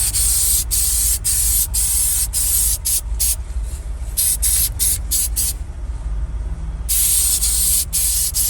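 An aerosol can lays light coats over a scratch repair on a GMC Acadia hatch, producing loud, close hissing bursts in a quick rhythmic series with short gaps between strokes.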